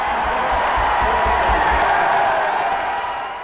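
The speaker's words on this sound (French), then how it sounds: "Dans les rues de Barcelone, la foule exulte." A large crowd exults in the streets of Barcelona, a dense roar of cheering and whooping at high level that holds steady, then eases slightly at the end.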